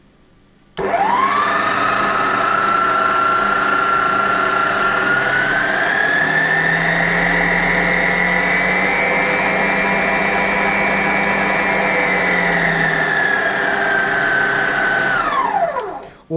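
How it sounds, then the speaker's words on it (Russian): A First FA 5259 dough mixer runs its planetary mechanism with no attachment, producing a steady, loud motor whine for about fifteen seconds. The pitch climbs gradually, holds, then drops sharply as it switches off. "Покажу, как работает сам планетарный механизм."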